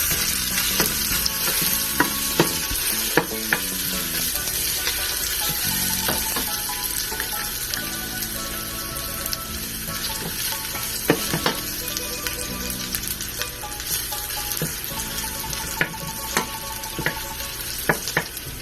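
Onions and aromatics fry and sauté in a pan for Guyanese metemgee, a continuous close crackling sizzle with occasional scraping stirs and clinks of a utensil, running steadily for nearly twenty seconds without talk.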